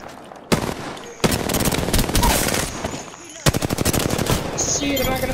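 The R99 submachine gun in Apex Legends on PS4 fires in three long, rapid bursts, each a dense rattle of shots separated by short pauses, loud and up front.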